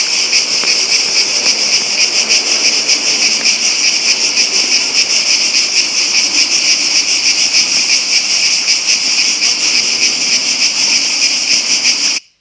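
A loud cicada droning up close in a continuous, unbroken high buzz that holds steady for about twelve seconds before stopping abruptly, with no talk.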